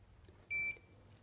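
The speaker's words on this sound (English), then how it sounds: "Each beep will take it up a minute to 7 minutes" One short, clear electronic beep sounds from the clock button of a PowerTube device, a single bright tone in an otherwise quiet room.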